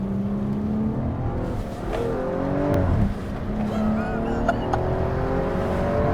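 A BMW M135i engine revs and accelerates hard, its pitch climbing and shifting through gears, with a voice talking over it.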